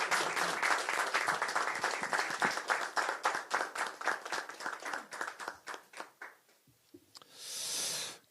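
A crowd at a Korean political party rally claps in a dense burst that thins out and fades, followed by a short rush of noise at the end.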